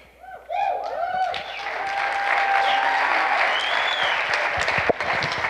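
An audience at a school revue show claps for the graduating class of 2023 seniors, applause swelling quickly and holding as a full, sustained roar with some crowd noise and a few whoops or voices mixed in.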